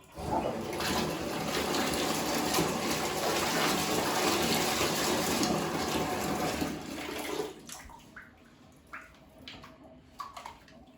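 Trumpet valves rinsed under running water, a loud, steady gush of water for about seven seconds that cuts off, then a few wet clinks and drips.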